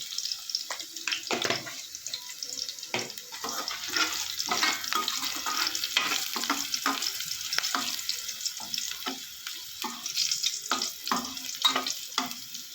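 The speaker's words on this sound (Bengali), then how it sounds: "ফোড়নটা আমার ভাজা হয়ে গেছে।" Whole spices and ground cinnamon frying in hot oil, a continuous soft sizzle with scattered crackles and occasional stirring scrapes, close and fairly quiet with no talk.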